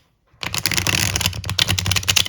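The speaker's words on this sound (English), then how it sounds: "let's shuffle the deck" A Lo Scarabeo tarot deck being shuffled: a dense, continuous run of crisp card riffling and flapping that starts after a brief silence and carries on steadily at close range, with no talking.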